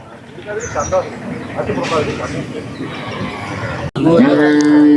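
Cattle at a native cattle fair in Palayakottai. A deep, drawn-out moo rises near the end over crowd noise, with someone talking throughout the first part.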